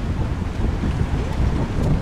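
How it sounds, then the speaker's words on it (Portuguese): Cold seaside wind on Ocean Avenue rumbles and buffets the microphone in a continuous, loud, gusty roar, with no talking. "O ventinho aqui é meio gelado, hein, bicho?"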